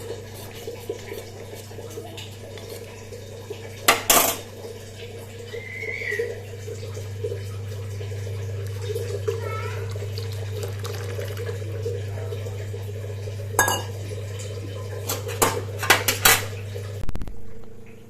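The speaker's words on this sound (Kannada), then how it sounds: "ಕಾದಿರೋ ನೀರಿಗೆ ಇದನ್ನು ಸೇರಿಸ್ತೀನಿ ಸೇರಿಸಿ ಕೈ ಬಿಡ್ದೇ ತಿರುಗಿಸ್ತಾ ಇರ್ತೀನಿ" Ragi flour being stirred into boiling water in a metal pot, with scraping and clinking strokes against the pot over a steady low hum, and a few sharper knocks partway through and near the end.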